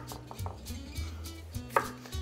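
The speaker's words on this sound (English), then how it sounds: "so we're going to cut these for french fries" Big Idaho potatoes are cut into french fries with a knife, making about five sharp chops on a cutting board, evenly spaced and close, with no talk.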